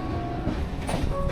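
A passenger train leaving Sealdah station bound for New Jalpaiguri rumbles steadily with a low, continuous rolling drone.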